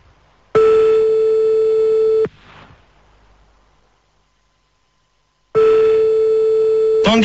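Telephone busy signal from a radio show call attempt: two loud, steady tone bursts, each about two seconds, separated by a short gap and near silence, with a brief click at the end.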